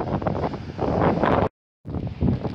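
A strong, cold northerly wind on Lyubimovka beach buffets the microphone in loud, rumbling gusts, briefly dropping out before roaring back.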